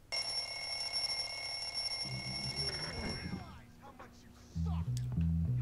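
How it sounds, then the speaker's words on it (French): In the video game Bully (Canis Canem Edit), an alarm clock rings with a steady, high electronic tone for about three seconds, then stops, followed by quieter game sounds and menu-like tones. "Oh, le réveil de mort qui tue."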